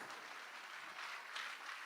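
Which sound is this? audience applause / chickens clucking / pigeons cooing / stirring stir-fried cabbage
audience applause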